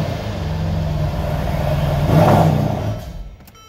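A 2018 Mercedes SL63 AMG engine idles with a deep, steady rumble, swells in a short rev, then drops away abruptly as it shuts off.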